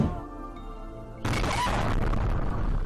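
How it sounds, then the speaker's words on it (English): Gas leak explosion at a restaurant in Hebei province, China, heard as a sudden loud broadband blast that cuts in over quieter ambient sound and continues as a sustained roaring crash and rumble. "A suspected gas leak caused an explosion at a restaurant in China's northern province of Hebei"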